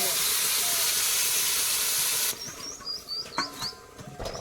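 Water poured into a hot pan of fried fish curry with tomatoes bursts into a loud, hissing sizzle of steam for about two seconds, then drops to quieter bubbling with a few squeaky stirring sounds.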